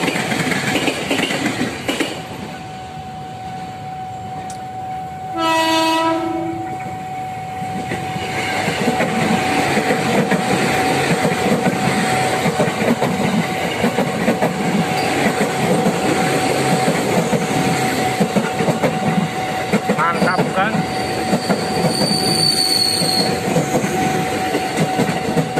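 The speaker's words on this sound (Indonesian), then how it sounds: "Dan KRL yang akan lewat itu dengan nomor seri" KRL commuter train passing Kalibata station in South Jakarta, a steady rumble of rolling wagons with clickety-clack filling the scene and a loud, brief horn blast near the start, plus a short high squeal later on.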